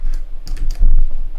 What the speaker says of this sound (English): Just for the test here, I will always type some test code.